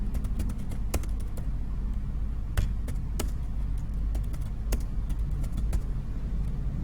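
Computer keys are typed in scattered, irregular clicks, some quick runs and isolated presses, over a steady low rumble of room or traffic noise.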